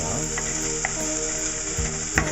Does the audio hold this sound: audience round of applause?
no